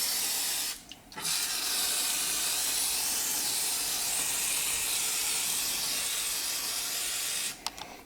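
An aerosol can sprays onto the mechatronic unit of a DL501/OB5 gearbox in a steady, close hiss that runs for several seconds. The hiss stops briefly twice.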